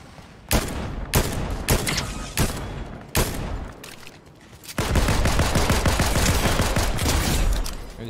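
Gunfire in the video game Fortnite: several separate sharp shots ring out at uneven intervals, followed by a dense, continuous volley of rapid fire that lasts for the last few seconds.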